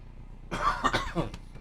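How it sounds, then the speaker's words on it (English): A few short, harsh coughs in quick succession, close and fairly loud, with faint background noise before them. "Apologize for my coughing."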